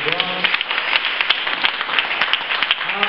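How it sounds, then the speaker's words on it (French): Crowd of churchgoers clapping hands, a busy stream of overlapping claps at a steady pace, fairly loud, with a voice speaking over it in places. "Acclamez tes mains, les gars."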